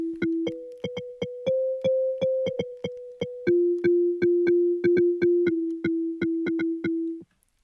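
A plucky synthesizer sequence, generated around a single note, pulses in quick repeated notes, shifting slightly in pitch around that note, with no voices.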